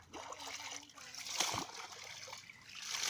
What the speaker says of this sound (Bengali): গায়ে পানি দিতে